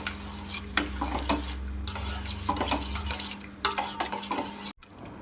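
Ada pieces stirred in simmering payasam for Kerala Onam sadhya, a spoon scraping and clinking against the pot in uneven strokes over a low bubbling background, with no talk.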